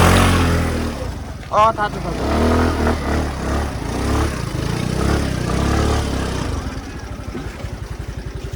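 Motorbikes and a scooter pull up and park on a forest track near a hidden waterfall outside Butwal, engines idling and revving nearby while people talk over them.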